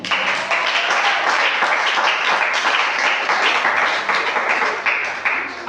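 A congregation at a youth church service breaks into loud, sustained applause, many hands clapping densely and close for several seconds with no voices over it.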